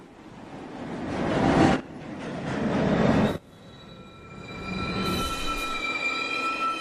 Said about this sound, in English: Downtown. Local 1 train. Approaching the station, please stand away from the platform edge.